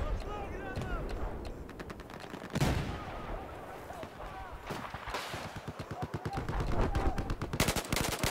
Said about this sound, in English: I'm still getting used to the recoil of this gun, so I'm missing quite a few shots on this guy